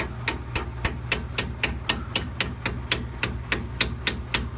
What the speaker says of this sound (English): You're going to probably have to tap that one in with the hammer